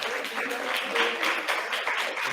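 Audience applause at a university writing workshop event in Guadalajara, a steady wash of clapping lasting a couple of seconds at moderate level, with light chatter mixed in.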